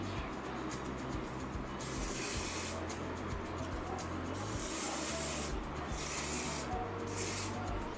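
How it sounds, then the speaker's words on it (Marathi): Bursts of hair spray from an aerosol can hiss in several long blasts with brief pauses between them, close and fairly loud, sprayed onto the ends of the hair. "मी हेअर स्प्रे अगदी टोकांवर मारतोय वरती"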